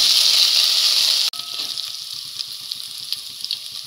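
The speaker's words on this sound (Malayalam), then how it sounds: "1 ടേബിൾ സ്പൂൺ ഇഞ്ചി വെളുത്തുള്ളി നല്ലതായിട്ട് ചതച്ചത് നമുക്ക് ഇതിനകത്തിട്ട് വഴറ്റി വെക്കാം" Crushed ginger and garlic with cumin sautéing in hot oil for a ladies finger masala, giving a steady close sizzle with a brief break partway and soft stirring ticks afterward.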